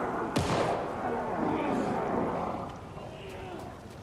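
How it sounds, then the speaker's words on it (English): Gunfire in the video game Alan Wake 2: one sharp shot near the start followed by a dense, rumbling clatter of further blasts and echoing noise that fades slightly toward the end. "I heard gunshots."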